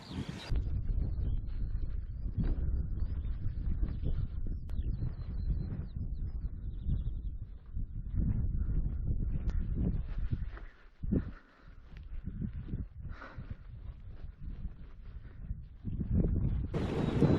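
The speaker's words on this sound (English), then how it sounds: "as you probably can tell from the microphone, it is windy now" Heavy wind on a Welsh mountain ridge hike buffets the microphone in loud, low rumbling gusts that briefly ease before roaring back.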